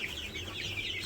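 Young broiler chickens in a new coop cluck and peep together in a busy, continuous chorus, close by and fairly loud, with no talking.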